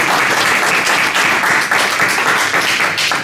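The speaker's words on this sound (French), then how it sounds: "On applaudit le Seigneur, vous êtes pas joyeux?" Church congregation applauding together, a dense, steady wash of many hands clapping close and loud, continuing without a break.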